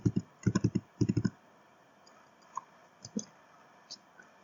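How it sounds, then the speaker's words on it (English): Keyboard typing as a password is entered at a computer login: a few quick bursts of clicky keystrokes in the first second and a half, then scattered single taps, close and fairly quiet. "type in the password"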